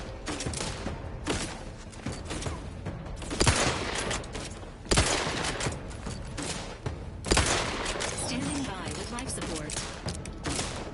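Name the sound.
gunfire from weak gun in The Outer Worlds 2 video game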